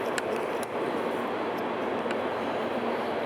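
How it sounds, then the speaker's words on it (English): A train passes near a forest campsite, a continuous broad rushing rumble that holds steady throughout, with a few faint clicks on top. "I can't hear over the train."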